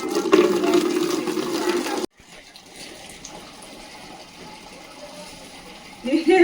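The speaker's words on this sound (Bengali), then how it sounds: "গাছে জল দিচ্ছ" Water runs from a hose or tap onto vegetable garden plants such as chilli and brinjal, a steady splashing gush for two seconds, then quieter trickling, with loud splashing returning at the end; voices speak briefly.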